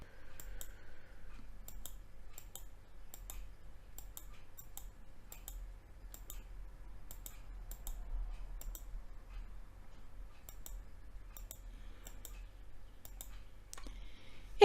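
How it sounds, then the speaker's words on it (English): Computer mouse clicks and Enter key presses on a keyboard while editing a photo, sharp isolated clicks in an irregular series of about a dozen, close and crisp over a quiet background hum. "I'll activate it by pressing the Enter key on my keyboard."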